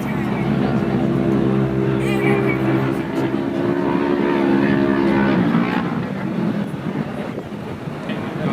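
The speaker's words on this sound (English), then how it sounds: "And on that 777 Yamaha, Gibson Performance Exhaust, his sponsors, Chance Gibson" A Yamaha ATV fitted with a Gibson Performance exhaust races off-road, its engine a loud, sustained drone that shifts in pitch as it passes, with a commentator talking over it throughout.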